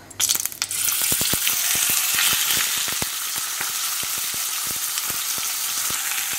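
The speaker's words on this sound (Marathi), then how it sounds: "नुस्तें फ्राय करूया हांव मसाला लायना नुस्त्याक हांव पयलें फ्राय करता" Pomfret shallow-fries in oil in a pan, a loud dense crackling sizzle right up close, with a sharp clatter at the start and rapid popping spatters all the way through.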